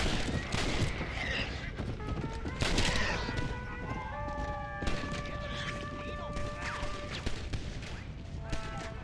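Gunfire in Red Dead Redemption: scattered shots crack out irregularly over outdoor ambience and horse hooves, with a sustained musical tone underneath and a voice speaking at times.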